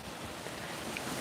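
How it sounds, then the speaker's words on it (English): Wind blows outdoors in Jamaica as a steady, low, rumbling broadband rush against the microphone, with no clear gusts or other sounds. "It's getting windy."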